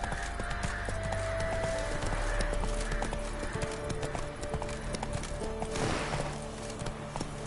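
Horse hooves clip-clop steadily in a gallop in The Witcher 3 video game, with a brief whinny and game music underneath, loud and continuous.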